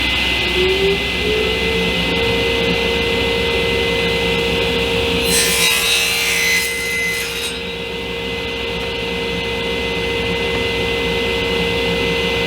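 A saw cuts through quarter-inch pine plywood over a steady motor hum, the rasping burst of the cut loud and close for a couple of seconds midway before settling back to the constant drone.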